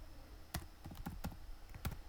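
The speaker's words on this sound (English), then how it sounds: "I'm just typing" Quiet keystrokes on a computer keyboard, a handful of separate clicks in an uneven typing rhythm, close and alone with no speech.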